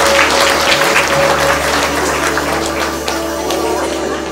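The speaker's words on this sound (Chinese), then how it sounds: "好，我们谢谢我们包牧师的掌声，" A church congregation applauds its pastor in a full, steady wash of clapping that slowly fades a little toward the end, with a low hum underneath.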